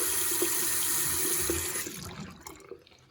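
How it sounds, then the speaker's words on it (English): Hot tap water runs into a sink in a close, steady rush that stops partway through, leaving only a few small drips and handling noises. "Let it run under the water."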